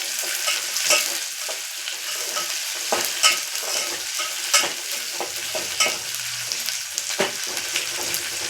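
Green chillies frying in a pan for upma, a bright crackling sizzle with frequent stirring scrapes and taps, close and fairly loud, with nobody talking.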